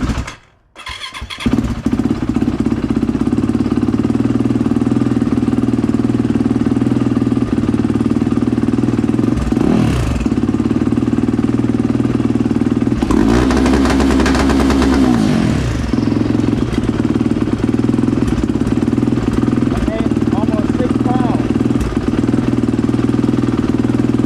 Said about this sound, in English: So I'm gonna start the bike up and let's see what it does.